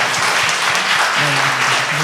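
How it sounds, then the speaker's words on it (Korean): A church congregation at a Wednesday women's service applauding together, a dense steady wash of clapping from many hands, with a low voice murmuring underneath. "우리 이 시간에는 하나님께 감사와 영광의 박수를 좀 드렸으면 좋겠습니다."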